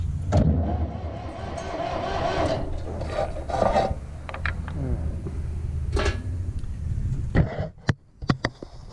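1960 Massey Ferguson MF35 diesel tractor engine cranking over on the starter, a rough grinding churn near by that runs in bursts and stops, followed by scattered clicks and knocks.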